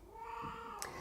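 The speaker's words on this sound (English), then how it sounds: "Oh, sorry, that's my cat." A house cat lets out a drawn-out, wavering meow close by, holding a steady tone for about a second before a short breathy end.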